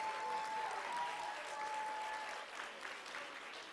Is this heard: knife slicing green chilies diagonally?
no